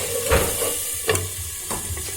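Pumpkin pieces sizzle under a lid in a pot, a steady faint frying hiss broken by three or four soft knocks and scrapes, close and alone with no talk.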